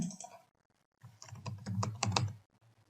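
A name is typed on a computer keyboard in quiet, close bursts of keystrokes, with a brief pause between short runs of typing.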